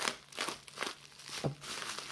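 Plastic and paper packaging from a Pokémon card delivery is slowly opened, giving soft crinkling and crunching rustles in irregular bursts, close but quiet, with no talking.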